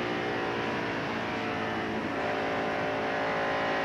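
An onboard race car engine in the 1992 Hooters 500 NASCAR race drones loudly and steadily at high revs, a constant harmonic roar filling the whole stretch with no talk over it.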